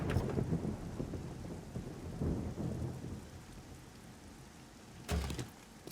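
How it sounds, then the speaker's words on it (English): Steady rain and rumbling thunder inside the survival game 7 Days to Die, Alpha 20, with a dense continuous downpour and a sharp thunder crack near the end, no voices. "And it's raining inside."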